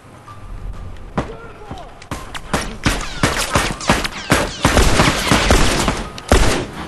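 Rapid bursts of video game gunfire crack and rattle in quick succession, loud and close, building into dense volleys toward the end.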